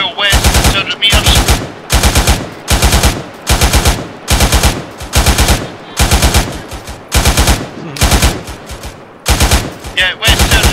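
Rapid gunfire in a military video game: long, loud automatic bursts of roughly a second each, repeating about every second with short gaps between them, close and dominant throughout.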